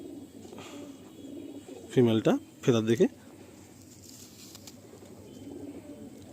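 Fulsira pigeons in a loft give two short, close, throaty coos, one right after the other, while someone talks quietly over a low background hum.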